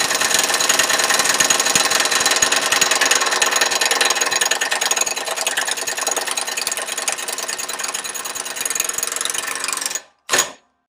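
Harbor Freight Earthquake XT impact wrench running at 1,000 foot-pounds: a loud, continuous mechanical rattle and hammering for about ten seconds, then a sudden stop and one short final burst.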